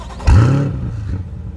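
A 2020 Chevrolet Corvette Stingray 2LT with the Z51 package fires up in sport mode. A sudden loud rev bursts out, then its roar gradually eases toward a rumbling idle.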